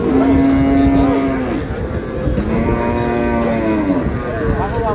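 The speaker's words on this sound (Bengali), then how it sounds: "গাভী বাছুর।" Cows and calves at the Aftabganj cattle market in Dinajpur give loud, close, drawn-out moos, two long calls one after another, against a background of market murmur.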